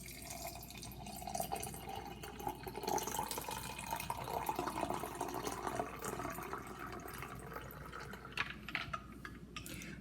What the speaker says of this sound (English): All right, so now we're gonna pour some in.